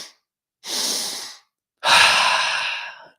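Deep, slow breaths during a breathwork exercise for mountain athletes: two long, close airy inhales or exhales separated by pauses, the second one fuller and stronger.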